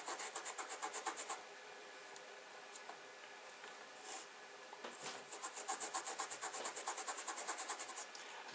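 Pigment being rubbed into kolrosing lines carved in wood, a dry, close scratchy rubbing in quick rhythmic bursts, with a steadier stretch of scuffing in the middle.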